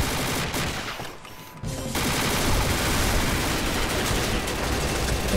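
Rapid, continuous automatic fire from a CZ Scorpion EVO 3 submachine gun in the video game Combat Arms, a dense loud stream of shots that briefly pauses before resuming at full intensity.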